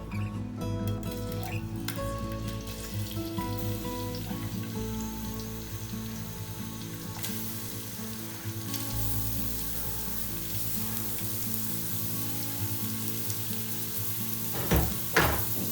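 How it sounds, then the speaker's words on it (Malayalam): Sliced onions frying in hot coconut oil in a pan for a cashew chicken curry, a steady close sizzle with occasional stirring scrapes toward the end, no voices. "വെളിച്ചെണ്ണ ഇതായി കഴിയുമ്പോൾ നമ്മൾ അതിലേക്ക് സ്ലൈസ് ചെയ്ത് അരിഞ്ഞു വെച്ച സവാള ഇല്ലേ, സവാള നമുക്ക് വയ്ക്കുക."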